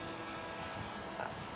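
A repaired Bixler 2 RC airplane's propeller buzzes at half throttle in flight, a faint, steady airy whine heard from a distance.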